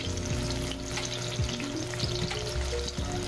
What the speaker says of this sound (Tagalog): set aside muna natin yung ating na-fry na talong